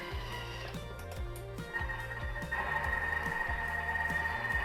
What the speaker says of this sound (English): Let's get this soup blended